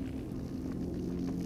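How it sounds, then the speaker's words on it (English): A rift in a Quest 2 virtual reality game gives a low, steady electronic hum that throbs continuously, dark and droning, with no voices over it. "That's the sound of a rift."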